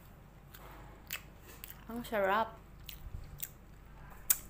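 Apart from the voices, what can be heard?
biting into crunchy fried samosa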